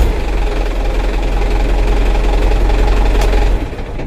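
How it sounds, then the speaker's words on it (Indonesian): A used car's engine idles with noticeable engine shake, a loud, steady low rumble with uneven knocking vibration throughout, dropping slightly near the end, with no talking. "suara mesinnya itu beda"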